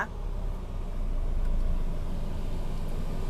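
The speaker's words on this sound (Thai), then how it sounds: "ลูกค้าเหยียบเบรกนะคะ แล้วก็กดปุ่มตรงนี้นะคะ นี่รถก็จะติดทันทีเลย" Nissan Navara 2.5EL Black Edition four-door pickup, 2019-20, started by push button, settling into a steady low idle rumble that fills the short stretch on its own, heard from close by.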